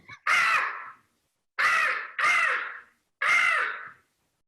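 A man vocally imitates a crow, giving four loud, harsh caws in an uneven rhythm, close to the mic with silence between calls.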